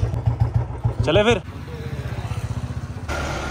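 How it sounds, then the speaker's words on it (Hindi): A motorcycle kick-starts and settles into a steady idle nearby, its thumping putter running beneath someone talking at the start. "आज मैंने बाइक स्टार्ट किया काफ़ी देर बाद, और आपने देखा जैसे कि एक ही किक में स्टार्ट हुआ बाइक है"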